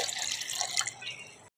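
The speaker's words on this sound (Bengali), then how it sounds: "ভোলেনাথকে এখানে রেখে আমি যে জলটা ওটা আমি ঢেলে দেব।" Water is poured out as a ritual offering to a Shiva figure at a home shrine, a soft close splashing trickle that runs briefly and then stops.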